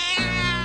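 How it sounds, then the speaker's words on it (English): A short cartoonish cat meow, loud and close, plays as a sound effect in a children's television program, a single drawn-out tonal call. "that's a cat"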